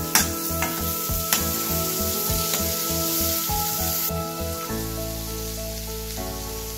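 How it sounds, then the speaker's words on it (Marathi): Soaked dal sautéed in a pan, a loud rhythmic scrape-and-tap of the spoon repeating every half second over a sizzle, then settling into a steady sizzle near the end, no talking. "आपण याला परतून घेऊ।"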